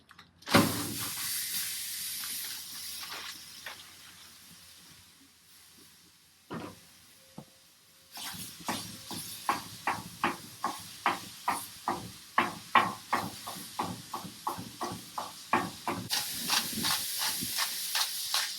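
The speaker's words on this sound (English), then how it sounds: "So I'm going to throw the meat on, get it seasoned, get it cooking." Beef seared on a flat top griddle heated to 400 degrees gives a loud, steady sizzling hiss, with a burst as the meat lands and a run of sharp scraping and tapping clicks from a spatula through the second half.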